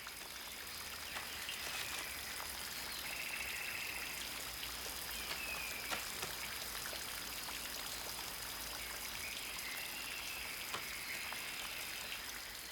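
Steady rain falling in the Guyana rainforest, a dense even hiss of drops pattering on leaves and surfaces with trickling water, continuous and close with no voices.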